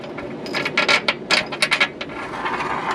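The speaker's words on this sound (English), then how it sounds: "then you push the bolt through" A bolt is worked through a trailer hitch being installed on a 2014 Subaru Forester, giving a string of close metallic clicks and scrapes in quick irregular bursts, with no speech.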